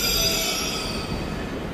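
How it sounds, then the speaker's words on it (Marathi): A Mumbai Metro train pulls into the platform with a steady loud rumble and high squealing wheels, continuous and close, with no talk. "ती आहे मुंबईची मेट्रो"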